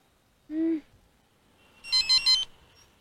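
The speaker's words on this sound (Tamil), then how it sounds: "என்ன ஏன் போன் அடிக்குது?" A mobile phone rings in a quiet room: one short low tone, then a pause, then a quick bright burst of three high electronic pulses, close and clear, with no talk over it.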